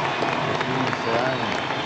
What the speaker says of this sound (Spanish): Ese aplauso para esta muchacha.